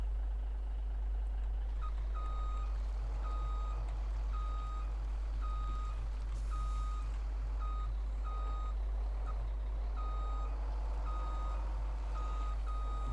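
A truck reversing through a forest in Farming Simulator 17, its steady backup beeper repeating evenly over a constant engine rumble and low hum.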